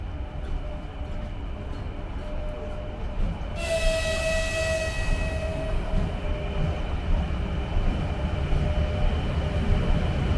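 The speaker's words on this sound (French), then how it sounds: "Et voilà l'arrière de notre train." Train at a Russian main station, its steady rumble filling the scene, with a brief brighter metallic squeal or horn-like tone rising a few seconds in, then continuing rail noise.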